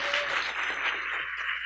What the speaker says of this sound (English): We have one more round of applause for the whole panel.